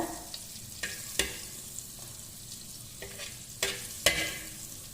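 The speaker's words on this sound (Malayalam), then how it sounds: "ഉള്ളി വെച്ചിട്ട് അതിൻ്റെ അകത്ത് കുറച്ച് ബട്ടർ ഇടുക" Butter melts with onion in a pan, making a soft, low sizzle broken by a few sharp taps and scrapes of a utensil, quiet and close, with no voices.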